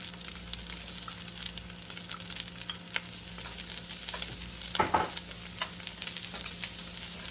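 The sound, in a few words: garlic frying in a pan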